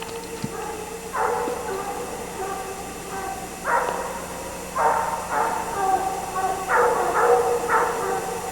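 Hunting dogs chasing a bear bark and bay in repeated bursts at middle distance, in an outdoor scene during a 1998 bear season, with a steady background rumble.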